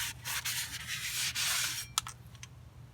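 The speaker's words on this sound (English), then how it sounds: "So after I give it a quick wipe like that" Quick rubbing wipe of a cloth over a greasy brake part during a 2011 Kia Forte brake job, a close scrubbing swish lasting a couple of seconds with a few short sharp scuffs near the end, over a low steady hum.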